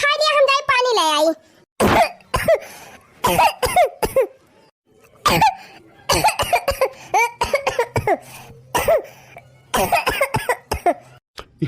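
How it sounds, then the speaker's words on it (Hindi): A cartoon woman coughs in short repeated bursts, close and fairly loud, in a comedy sketch with other cartoon voices speaking around the coughs. "ये हमारे मालकिनिया के तनी खांसी का है आवत बिया।"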